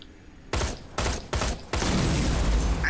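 Gunfire in the shooter Terminator: Resistance comes as three sharp, loud bursts followed by a sustained rattling volley, close and dry, with no talk over it.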